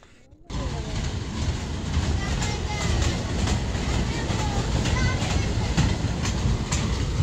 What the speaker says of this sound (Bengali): রেল চলেছে ঝকাঝক।